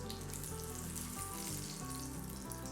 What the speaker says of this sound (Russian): И точно так же с другой стороны жарим до румяной корочки.